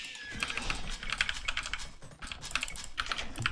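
Rapid, steady keystrokes clatter on a quieter-than-usual computer keyboard during an Age of Empires II match, a close, continuous stream of clicks with brief pauses.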